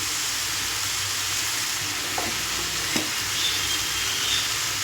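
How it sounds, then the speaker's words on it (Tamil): Eggplant kuzhambu, a Tamil curry, bubbles in plenty of oil in a pan, giving a constant close hiss and sizzle with a couple of faint pops and no voices. "எண்ணெய் கத்திரிக்காய் குழம்பு நல்லா கொதிச்சிட்ருக்கு"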